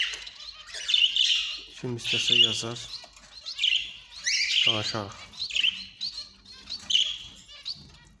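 Zebra finches and Japanese finches chirp in cages, with repeated high, close calls throughout while someone talks over them.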